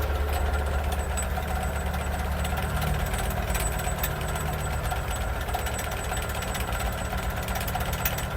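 A tractor engine idles steadily at about 1000 rpm while driving a Petryk KP-2R potato digger, a continuous low rumble with a faint knocking texture, close and unbroken throughout.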